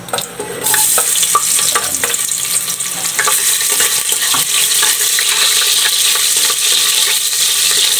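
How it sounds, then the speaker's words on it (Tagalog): Ginger hits hot oil in a pan and breaks into a loud, bright sizzle that continues steadily, with occasional scraping and stirring sounds close up. "Gigisa muna natin guys yung mga sangkap natin."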